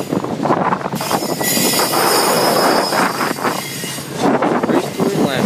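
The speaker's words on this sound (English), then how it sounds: "It's an Autorack train." An autorack freight train rolls past close by with a loud, sustained rumble, clattering wheels and high squealing from the wheels on the rails, with faint voices in the background.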